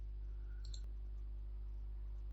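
A single computer mouse click lands sharply once against a steady low electrical hum, faint and close, with no voices.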